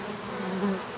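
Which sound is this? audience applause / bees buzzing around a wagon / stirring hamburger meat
bees buzzing around a wagon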